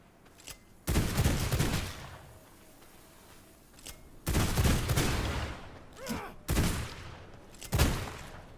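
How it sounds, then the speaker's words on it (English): Pistol fire in the video game V Rising comes in about four loud, sharp bursts spaced a few seconds apart. A shorter crack and a faint creature cry sit between them over a quiet background. "I'll use these pistols to try and whittle him down for capture"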